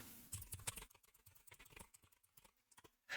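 Keystrokes on a computer keyboard as a web address is entered, a quick irregular run of close, crisp clicks, with a louder burst at the very end.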